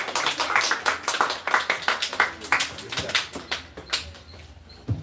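Scattered hand clapping from a church congregation at a Baptist Bible school gathering, uneven and moderately close, with some talk mixed in before it thins out near the end.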